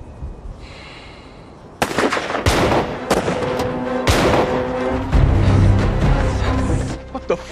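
Sharp gunshots in a spy thriller film scene, several loud cracks spaced apart after a quiet start, mixed with a rumbling crash and a dramatic soundtrack.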